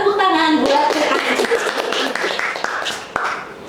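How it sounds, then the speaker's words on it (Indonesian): Scattered hand clapping from a small group at a campus podcast session, a few seconds of light, uneven claps mixed with voices and chatter. "Tepuk tangan buat Teh Ai."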